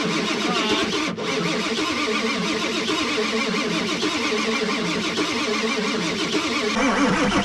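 A Ford 7.3 Powerstroke diesel engine cranks over in -42°F cold, with a continuous, loud, rhythmic starter churn and a strained, labored pulse that never catches into a running idle.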